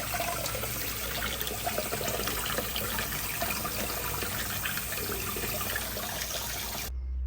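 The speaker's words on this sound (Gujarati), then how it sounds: "હવે આપણે આને વોશ કરી લઈશું બીજા એક સરસ પાણીથી, અને ડ્રાય કરી દઈશું. પાણી એકદમ આપણે એમાંથી નિતારી લેવાનું છે." Soaked soya chunks are rinsed under water and drained, giving a steady, close rush of running and splashing water that continues evenly and cuts off abruptly at the end, with no talk.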